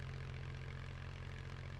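Steady propeller engine drone of a seaplane cruising in flight in Just Cause 3, a continuous low hum with a rough buzz above it, constant in level and unbroken throughout.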